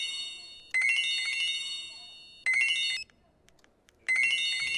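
A mobile phone rings in a clinic, three bursts of a bright electronic ringtone melody with short quiet gaps between them, fairly close and loud.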